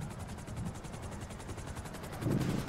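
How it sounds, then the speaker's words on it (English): Helicopter in the GTA 5 video game, a steady rotor drone with a low rumbling thump swelling louder near the end, with no talk over it. "drop the chopper down, pilot"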